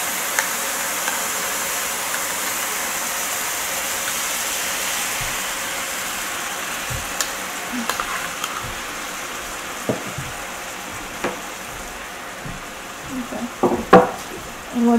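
Sauce cooking in a non-stick pan, a low, steady sizzle with scattered scrapes and clinks of utensils growing busier toward the end.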